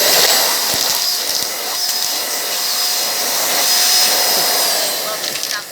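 A Big Brute vacuum cleaner roars loudly and continuously, close up, as it tries to suck up stones, with a few short rattling knocks from debris hitting the nozzle.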